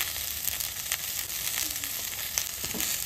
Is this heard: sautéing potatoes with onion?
yes